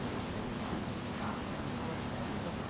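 Heavy rain falling in a steady, dense hiss of drops on surfaces outdoors, continuous and fairly quiet with no distinct individual drops standing out.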